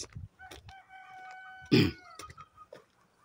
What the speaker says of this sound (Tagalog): Naririnig ako mga manok.